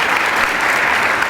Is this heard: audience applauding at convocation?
yes